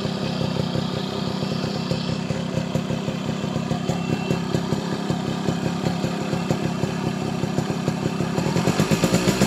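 A Yamaha RXZ motorcycle engine fitted with a quick throttle and PWK 26 carburettor runs steadily up close. Its dense, rapid two-stroke beat stays loud and unbroken, with revs climbing slightly toward the end.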